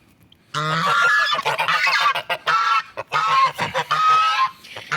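A goose called Guigui honks loudly and insistently at close range, a string of harsh, brassy calls broken by short pauses, with no talking over it.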